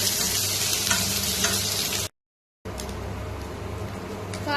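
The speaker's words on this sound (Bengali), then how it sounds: "আলু আর নারকেলটাকে এবার মিক্স করে ভেজে নেবো আস্তে আস্তে।" Potato and grated coconut slowly fried and stirred together in a pan: a steady close sizzle with utensil scrapes, broken by a brief silent gap before the frying resumes.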